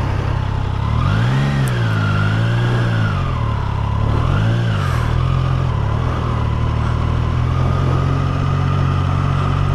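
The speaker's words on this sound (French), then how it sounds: "un petit décalage entre le moment où on accélère et la réaction du moteur" A Triumph Tiger Sport 660 motorcycle engine idles steadily at standstill, close up. Its throttle is blipped twice into rising and falling revs, and it settles back to a smooth, even idle.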